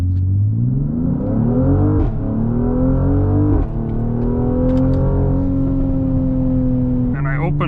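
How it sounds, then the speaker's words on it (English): A 2022 Mercedes GLC 43 AMG in Sport Plus mode accelerates at full throttle up a slight incline, its engine droning loud and steady with rising pitch and a gear-change break, heard from inside the cabin. "Let's go full throttle,"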